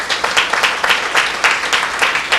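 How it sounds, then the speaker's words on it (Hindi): Dense, loud applause from a church meeting congregation, many hands clapping together in a continuous rippling burst. "तालियां बजाए सिस्टर के लिए"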